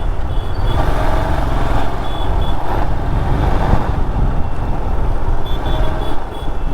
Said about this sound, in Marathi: झालं ट्रॅफिक लागलं म्हणूपर्यंत.